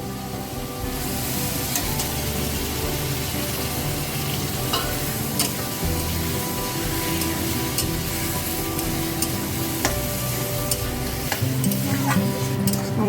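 Tomato, green chillies, potato and onion sautéing in a pan for a Bengali fish dish, a dense, continuous close sizzle broken by frequent small clicks and scrapes of stirring, with no talk over it.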